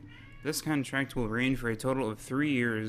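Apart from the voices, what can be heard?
cat meowing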